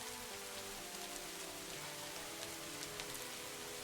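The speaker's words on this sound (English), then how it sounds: "Is it raining in the background?" Steady rain falls on a rainy night, a soft, continuous, even patter heard faintly in the background with no voices.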